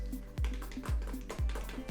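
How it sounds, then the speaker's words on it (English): A dog walking around indoors, its paws tapping on the floor in a steady series of soft, close clicks, roughly four footfalls spread evenly over a couple of seconds against a quiet room hum. "I'm waiting for the dog to disappear. He keeps walking around"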